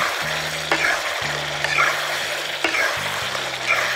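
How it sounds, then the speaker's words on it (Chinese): Chicken with spoonfuls of sauce is stir-fried in a pan, giving a continuous sizzle with repeated scraping strokes of the spatula, close and fairly loud with no talk. "我们先舀2大勺放进去，不断的翻炒，让它入味。"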